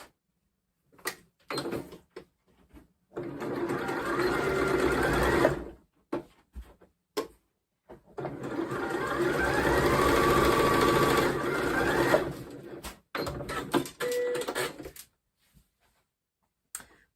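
A sewing machine stitches a make-up brush roll in two long runs of steady, close mechanical whirring, separated by brief clicks and handling knocks.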